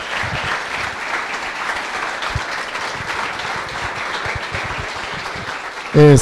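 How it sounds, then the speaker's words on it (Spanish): Sustained applause from an audience at a free software conference talk fills the space, dense and even, before a voice cuts in loudly at the very end. "Yo quisiera pedir un fuerte aplauso para los organizadores de este evento."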